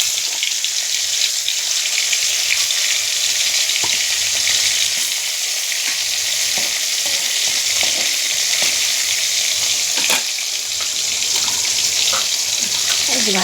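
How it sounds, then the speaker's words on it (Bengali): Fish frying in a pan, a loud continuous hiss of sizzling oil with crackles and occasional sharper pops, steady and close for the whole stretch. "এই যে তুলে নিচ্ছি মাছটা, এদিক ওদিক ভেজে নিলাম"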